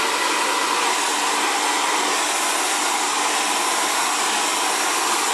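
An Xtava Allure professional ionic ceramic hair dryer blows on curly hair, giving a loud, steady, close-up whoosh with a faint whine that holds unchanged throughout, with no voices.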